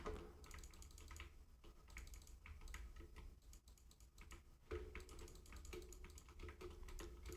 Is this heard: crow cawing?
no